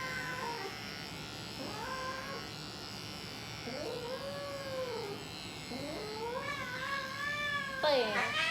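A cat gives a run of chirping, trilling meows that rise and fall like birdsong, repeated in short phrases over about eight seconds, fairly faint against a quiet room.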